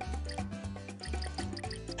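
Cartoon game effect of oil poured into a vehicle in a Disney Junior repair game, with a quick series of bubbly glugging drips over a soft musical backing.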